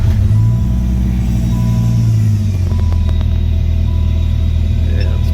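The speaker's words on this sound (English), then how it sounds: "I'm going to go ahead and try to start the vehicle." A Gen 2 Dodge Viper, its alternator newly replaced, cranks and catches, then settles into a loud, deep, rumbling idle that carries on close by.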